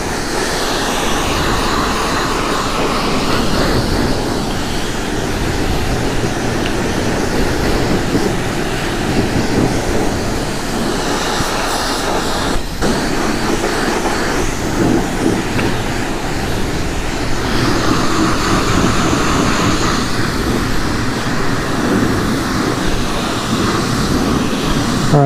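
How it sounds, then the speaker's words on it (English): A pressure washer sprays soapy water onto a Honda Africa Twin motorbike, a loud, steady hissing roar close by that shifts in tone as the jet moves across the surfaces, with no talking. "it's just the water with pressure and a bit of soap"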